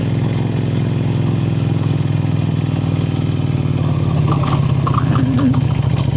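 A motorcycle engine labours steadily up a high mountain pass road among snow-capped peaks in Upper Mustan, with a loud, continuous droning hum and clattering that holds throughout without talk.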